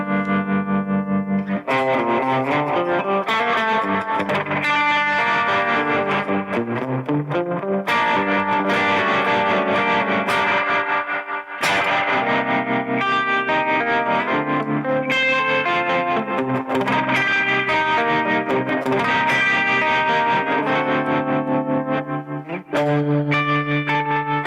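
Electric guitar run through spring reverb followed by a bias tremolo, with distorted, shimmering chords that pulse and wobble, ringing out loudly in a continuous played passage with brief gaps between phrases.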